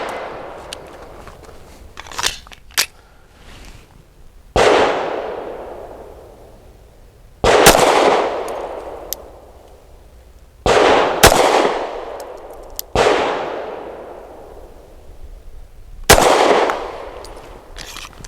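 Springfield Armory Prodigy pistol firing Blazer aluminum 115 grain ammunition: six or so loud, sharp shots at irregular intervals, each followed by a fading ring-out, with no talking.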